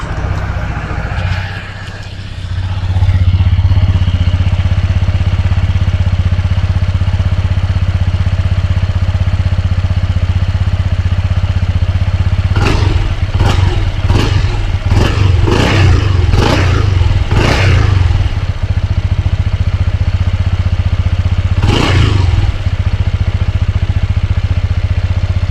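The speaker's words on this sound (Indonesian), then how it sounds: "gue mau denger dulu atau cek sound dulu suara dari knalpot PCX 160 ABS versi 2025" A 2025 Honda PCX 160 ABS scooter engine starts and settles into a steady, low idle close by at the exhaust, with a series of sharp clatters and a quick rev partway through.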